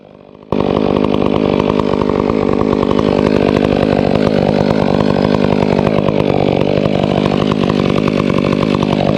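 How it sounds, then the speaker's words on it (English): A full-wrap-handle chainsaw runs close and loud while cutting a tree on a farm, a steady high-revving buzz that starts abruptly after a brief lower idle and holds at full throttle to the end. "You see how I have my hands on the handles of the chainsaw?"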